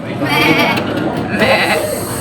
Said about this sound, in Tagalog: May mga kambing.